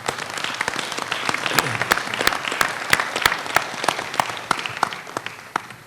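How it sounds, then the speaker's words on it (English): Conference audience at a diaspora business summit applauds, a dense wash of clapping with sharp individual claps standing out, steady and fairly close, with no talking over it. "they deserve a round of applause before the speakers"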